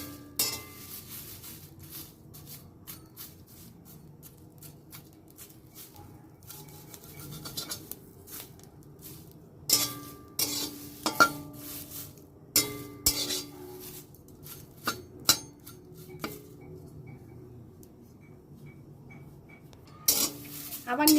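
Neem leaves dry-fried without oil in a pan over low heat, with a utensil scraping and stirring in scattered bursts of clinks and scratches, growing busier in the second half, alone without talk.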